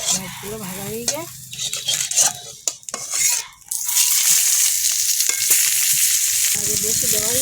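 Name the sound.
fish frying in oil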